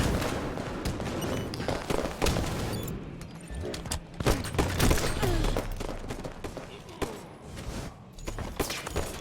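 Dense bursts of rapid gunfire and booms from a competitive Halo match, with overlapping shots and explosions mixed loudly under the game's action throughout.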